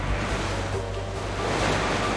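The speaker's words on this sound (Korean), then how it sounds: "해저 지형의 영향으로 파도가 위로 솟구치면서 파고가 높아진다." Ocean waves surge toward the shore, a broad continuous roar of surf with low rumbling swells and some wind buffeting, close and loud with no voices.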